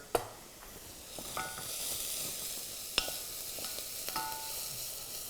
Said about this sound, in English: Give our onions a stir